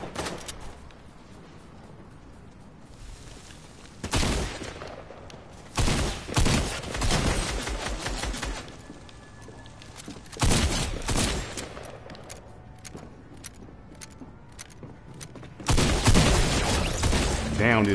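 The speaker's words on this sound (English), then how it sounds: "Oh, he's shooting back." Enemy gunfire in a video game shootout: loud bursts of rapid shots erupting in several clusters separated by quieter stretches, with a voice talking over parts of it.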